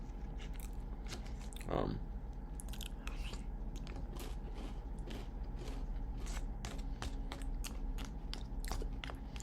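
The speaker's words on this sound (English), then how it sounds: "When I put this crackers in the soup, it gives me the crunch that I was kind of looking for in the panini." Crackers softened in soup being chewed at a restaurant table, with soft repeated crunching and biting close to the microphone against steady room background noise.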